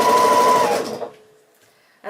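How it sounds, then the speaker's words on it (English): A sewing machine runs a quick burst of stitching on the diagonal across a quilt star block, loud and close, then cuts out and leaves near silence before a brief restart. "then I'm sewing on the diagonal"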